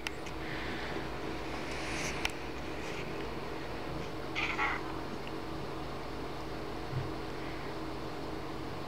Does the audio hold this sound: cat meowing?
yes